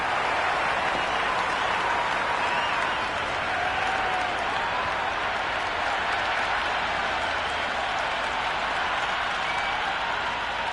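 A broad, steady roar of crowd noise fills the whole stretch, like cheering and applause at a T20 cricket match in a cricket video game, with no clear peaks or breaks.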